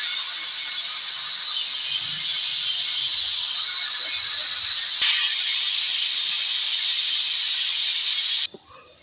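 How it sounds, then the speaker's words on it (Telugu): Mixed vegetables frying in a little oil for Andhra-style sambar, a steady, loud, close sizzling hiss that runs continuously and then drops off abruptly near the end. "ఇప్పుడు అన్ని కాయలు వేసేసుకోండి. కొంచెం నూనెలో వేయించుకుందాము"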